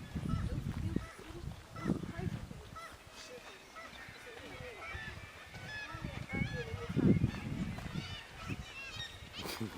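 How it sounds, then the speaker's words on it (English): Seabirds calling on the Lofoten coast in Norway, a chorus of honking, cackling cries near and far, rising in bursts over wind-like background noise, with voices at times. "All you can hear is the cry of the seabirds."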